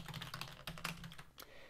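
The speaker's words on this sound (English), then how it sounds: "I was looking at my keyboard to make sure I typed the words correctly." Fingers typing on a computer keyboard during a GameMaker coding session, a quick irregular run of close, crisp key clicks with no one speaking.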